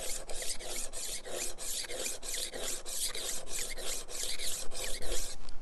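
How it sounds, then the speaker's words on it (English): Rhythmic rasping strokes of a rolling sharpener grinding along a blade, repeated steadily back and forth, close and fairly quiet, with no talking. "you should be able to hear that rolling and grinding against that blade and putting an edge onto it"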